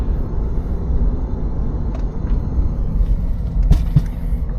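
A 1991 Mercedes-Benz SL500 brakes hard from speed, a steady low road rumble and tire noise running throughout with a brief louder thump near the end, no voices.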